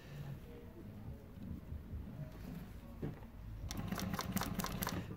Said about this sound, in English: So I'm going to sew along the edge of this thing.